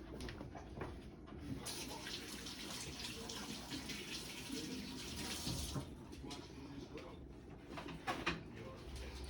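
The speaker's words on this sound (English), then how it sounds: "Let me rinse my hand off when I touch these knobs" Tap water runs steadily into a sink as hands are rinsed, a continuous close splashing hiss that swells midway, with faint birdsong and brief voices in the background.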